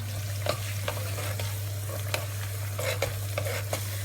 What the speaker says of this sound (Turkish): sosumuzu iyice salçalar çözülene kadar karıştırıyoruz